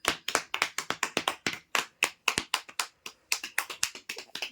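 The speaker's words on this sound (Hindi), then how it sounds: "तालियां" Close, brisk hand clapping from a small group at a 35th wedding anniversary celebration at home, a quick uneven run of sharp claps with brief pauses, no talking.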